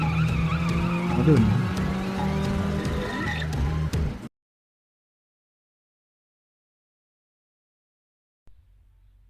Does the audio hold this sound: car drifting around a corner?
yes